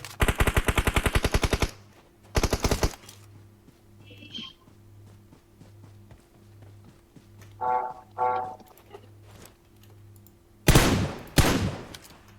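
Rapid automatic gunfire bursts from the battle royale video game LIVIK, loud and close in quick volleys, separated by quieter stretches with a short burst of talk between them.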